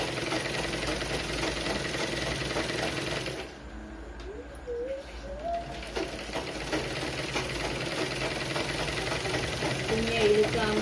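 A sewing machine stitches blouse fabric with a steady rapid mechanical chatter. The stitching pauses briefly partway through and then resumes, with a voice speaking faintly in the background.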